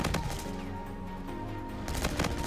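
A suppressed ARX rifle fires in Infinite Warfare multiplayer: quick muffled bursts at the start and again near the end, with a steady humming tone in between and no talk.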